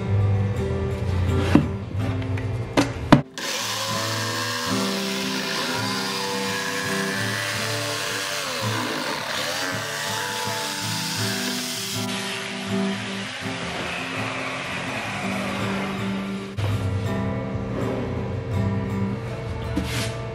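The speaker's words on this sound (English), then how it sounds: "So we want to follow about a quarter inch in when we cut the opening. That's gonna be our jigsaw line." A jigsaw cuts a handle opening in wood for a theater cube, starting with a few knocks, then a loud, close, buzzing saw drone that shifts in pitch as it works along the line and keeps running without talking.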